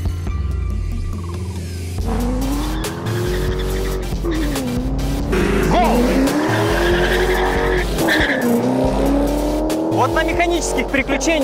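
A BMW 540i E34 with the 4-liter M60B40 V8 and rear-wheel drive launches against a Mercedes E500 in a drag race, engines revving hard with loud squealing tires and rising gear pulls, while a voice talks over the racket.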